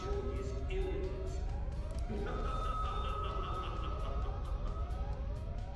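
An alarm siren in Persona 5 Royal wails in repeated rising sweeps over music and a low rumble, loud and steady throughout.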